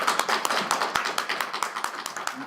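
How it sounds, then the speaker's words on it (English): Scattered clapping from a small conference audience thanking a panel at a teaching forum, with distinct separate hand claps at an uneven rhythm and no sustained roar. "let's have one more round of applause for the panel"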